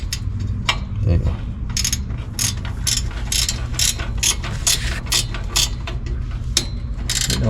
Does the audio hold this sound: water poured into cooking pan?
no